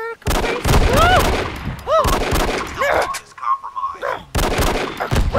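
Gunfire in the video game Send in Jimmy: loud, repeated bursts of shots and impacts come in clusters across the clip, mixed with whooshing effects and a voice talking over them.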